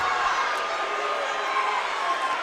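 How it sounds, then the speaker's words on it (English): Steady roaring crowd noise swells through an indoor arena during a St. Louis Ambush versus Kansas City Comets playoff soccer game, a dense continuous cheer with a commentator talking over it. "Crowd is going ape."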